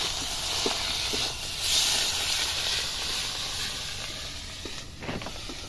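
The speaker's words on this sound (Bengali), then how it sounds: "মশলাটা ভাজা হয়ে গেছে ওর মধ্যে আমি টমেটোগুলো" Steady hissing sizzle of tomatoes dropped into fried cumin, chilli and turmeric spice paste in hot oil, continuous and close with faint crackles throughout.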